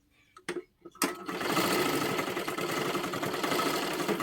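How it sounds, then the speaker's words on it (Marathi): A sewing machine stitches tucks on a blouse. A few short stops and starts come first, then a steady, close, continuous whirring run, with a voice faintly under the motor. "आता परत त्याच्यावरती डबल शिलाई मारून घ्यायची आहे"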